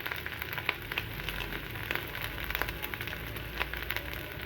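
Spices roasting in a hot pan for Bihari stuffed ragi parantha (madhua), a steady soft sizzle and crackle with scattered small pops, fairly quiet and continuous, no talking.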